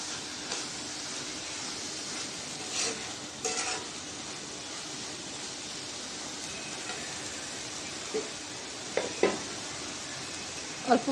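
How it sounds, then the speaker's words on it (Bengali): Chopped potato and spices being sautéed in a covered pan for a fried fish and coriander leaf dish give off a quiet, steady sizzle, broken by a few soft clinks and stirring scrapes. "মশলার সাথে আলু কুচিটাও কষাই নেব।"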